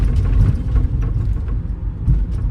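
Steady low engine rumble from a car on the move, loud and close throughout, with no voices over it.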